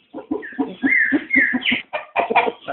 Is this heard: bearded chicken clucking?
yes